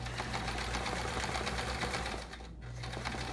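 A sewing machine stitches free-motion quilting, writing text onto a chevron-patterned quilt, its needle whirring in a steady close rhythm that dips briefly toward the end before resuming.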